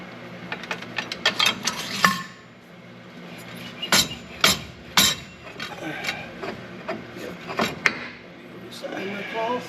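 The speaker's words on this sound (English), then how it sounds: "Now I'm going to need a pair of pliers to take this clip out." Pliers work a retaining clip off a combine during a cleaning fan repair, producing sharp metallic clicks and clinks at irregular intervals, close by, with faint background hum.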